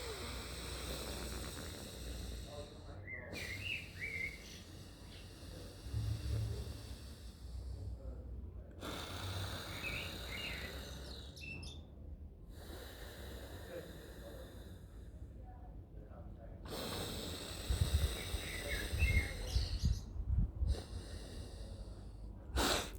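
Nasal breathing exercise with alternating nostrils, done before bed: long, steady hissing inhales and exhales through the nose, close and fairly loud, broken by short pauses and a few snort-like pulls of air.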